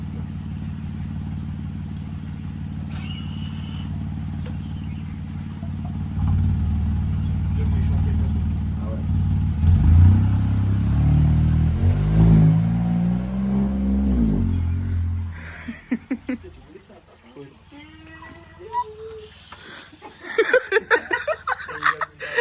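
A car engine rumbles and revs as the vehicle drives off, low and steady, then fades while people talk and laugh nearby.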